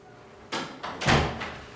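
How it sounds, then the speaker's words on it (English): Indoor door sounds: a sharp opening bang followed by a series of bumps and thuds as the door swings and settles, close and moderately loud, with no talking. "Oh, that door."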